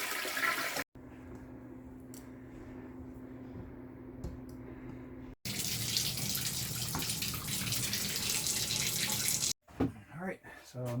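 Cold water draining from household plumbing after the main feed to the house is shut off, a steady rushing and gurgling flow through the pipes and tap that runs for several seconds, broken by brief pauses and low background talk.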